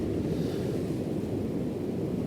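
Sea waves break near the Happisburgh cliffs as a continuous low rushing roar, mixed with buffeting wind on the microphone and no voices.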